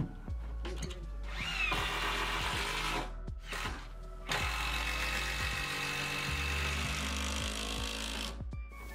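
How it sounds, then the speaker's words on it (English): Power drill driving screws through plywood side panels into a wooden shed base: repeated whirring bursts with sharp clicks and knocks between them, close and fairly loud, with short pauses, no talk. "Then I started screwing all three side panels on top of the base."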